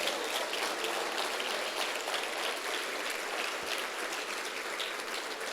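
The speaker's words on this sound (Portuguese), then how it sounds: "Pode dar uma salva de palmas para ele" A church congregation at a Sunday communion service gives steady applause, a dense even wash of many hands clapping that carries on without pause and eases off slightly toward the end.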